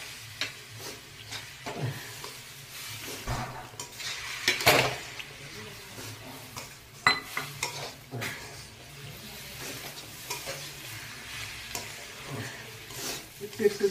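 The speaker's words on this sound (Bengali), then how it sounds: "এবারে আমি অল্প অল্প করে জল দিয়ে নাড়বো।" Roasted semolina being stirred in a hot pan for upma as water is added bit by bit, a close, soft sizzle under repeated scraping and clinking of the spoon against the pan.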